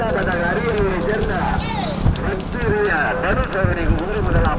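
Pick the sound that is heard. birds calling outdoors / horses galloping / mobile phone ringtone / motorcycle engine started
horses galloping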